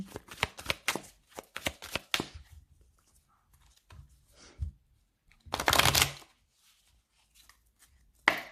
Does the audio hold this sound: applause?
no